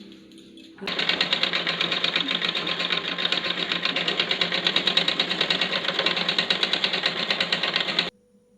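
A sewing machine stitches in one long continuous run, its rapid needle rattle starting abruptly and stopping abruptly, loud and close, with no talking.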